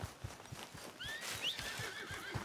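A horse in the Red Dead Redemption 2 video game neighs in a drawn-out whinny while its hooves beat a steady clip-clop rhythm underneath, moderately loud over a continuous game ambience.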